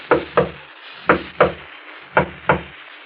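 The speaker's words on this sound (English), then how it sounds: "There's a discreet knock on the door at the front of the shop." A discreet knock on a shop's front door, a 1943 radio drama sound effect: three evenly spaced pairs of crisp, close wooden raps, two quick knocks each time, with short gaps between pairs.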